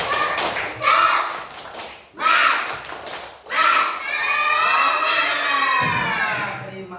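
Children in a classroom perform the rhythmic 'tepuk semangat' clapping chant, with bursts of sharp claps and chanted voices in short phrases, ending in a sustained loud shout of many young voices.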